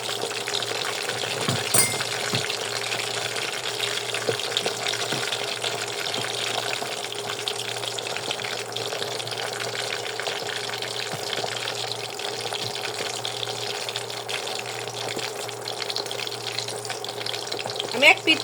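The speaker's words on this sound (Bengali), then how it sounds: "আমি এক পিঠ পুরো ভালো মতো একটু ভেজে নেব।" Potato-filled snack frying in a pan of oil, giving a continuous, even sizzle and hiss close by, with a few brief knocks near the start and end.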